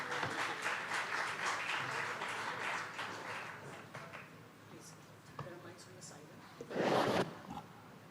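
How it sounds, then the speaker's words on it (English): Audience applause at the Hindustan Times Leadership Summit 2024, dense and steady for several seconds with voices mixed in, then thinning out, followed by a brief louder burst near the end. "Ladies and gentlemen, a round of applause for our father-daughter combination."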